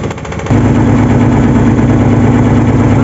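A boat engine idles steadily and loudly, a low rumbling drone that kicks up louder after a brief quieter start and then holds an even pulse throughout.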